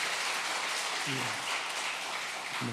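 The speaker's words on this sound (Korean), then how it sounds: "한번 뜨겁게 한번 박수로 격려하겠습니다." Congregation applause during a Korean church children's Sunday worship service, a steady broad wash of clapping for a departing soldier, with a brief sung or spoken voice partway through.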